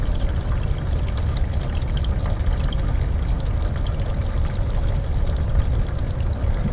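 Diesel fuel drains steadily from a Paccar X15 fuel filter housing, a continuous close trickle and splash of liquid with no voices.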